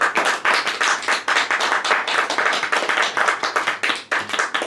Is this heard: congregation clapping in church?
yes